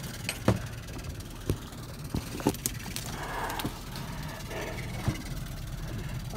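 A small fishing boat's engine runs out on the water, a low steady hum near at hand with irregular clicks and knocks over it.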